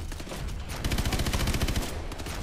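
Rapid automatic fire from a main gun in the Call of Duty Advanced Warfare final mission, a loud dense burst of repeated shots lasting a couple of seconds, close and booming.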